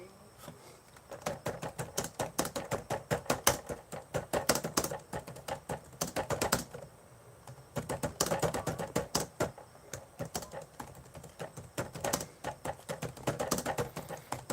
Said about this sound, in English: every time you talk on your keyboard, it sounds like a typewriter